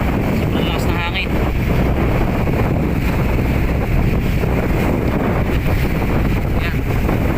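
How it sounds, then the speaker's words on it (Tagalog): Strong wind and heavy waves around a fishing boat at sea, a loud, constant roar of gusts blasting the microphone over crashing water, with voices heard briefly beneath it. "Sobrang lakas ng hangin."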